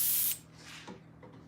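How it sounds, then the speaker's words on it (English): A paint spray gun blasts out water in a loud, steady hiss that cuts off after a moment, leaving a quiet room tone with faint small knocks. "I'll spray out a little more just to make sure there's nothing in there"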